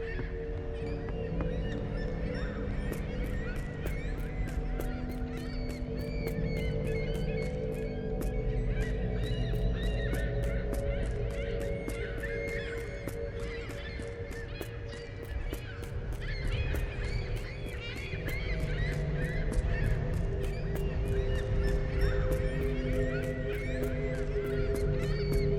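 Large flock of geese in The Lightkeeper, an indie horror game, honking continuously in dense overlapping calls over a low rumbling game ambience, loud and steady throughout.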